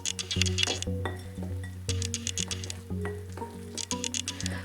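Banana fritter batter of flour, cumin seeds and water is stirred for Kerala-style pazham pori, giving wet squishing pats and spoon clinks against the bowl in an irregular rhythm, close and moderately loud, with a steady background hum.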